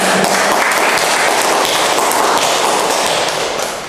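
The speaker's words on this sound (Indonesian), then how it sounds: "Beri aplaus sekali lagi" Dense, loud applause from an audience at an educational dissemination session, a steady wash of clapping that holds throughout and fades slightly at the end.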